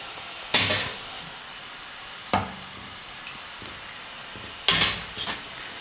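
Murukku frying in hot oil, a steady soft sizzling hiss broken by a few sharp clinks and splashes as pieces are added or turned.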